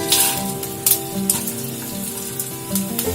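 Mustard seeds and curry leaves crackle and sizzle in hot oil in a pan, a close steady frying hiss with sharp popping bursts scattered throughout and no talking.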